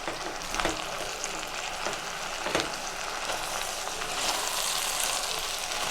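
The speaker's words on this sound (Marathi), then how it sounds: "पहा फ्रोझन मटार राहिलेली होती आपली, तर आपण ते घालून घेऊयात। आपण ते थोडंसं हलवून घेऊयात।" Frozen peas and spices frying in a pan for pav bhaji, a dense steady crackling sizzle with a few soft stirring scrapes, close and continuous.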